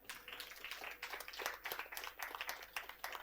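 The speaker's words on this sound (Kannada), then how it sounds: "ಒಂದು ಚಪ್ಪಾಳೆ ಹೊಡೀರಿ ಅವರಿಗೆ." An audience claps for a speaker at a church teaching session, producing a brisk, steady patter of many hands that holds for a few seconds without any talk over it.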